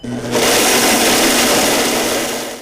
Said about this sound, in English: just blend it up in your blender so that it will be in the form of a flour